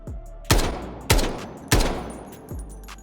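Four loud, evenly spaced G3 rifle shots in the shooter game Delta Force hit a target wearing gold armor. The first three sound heavier, the fourth is slightly softer, and each crack trails off into a short tail.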